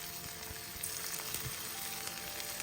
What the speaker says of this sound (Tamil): இதில் நம்ம ஒரு பீஸை எடுத்து எண்ணெயில் போட்டு நம்ம வறுத்து எடுத்துக்கலாம்.